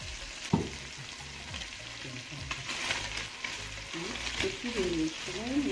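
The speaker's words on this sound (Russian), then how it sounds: "И лук мы должны обжарить до золотистого цвета с мясом" Onion and meat frying together in a pan make a lively sizzle with scraping stirs and clinks. A voice talks faintly underneath.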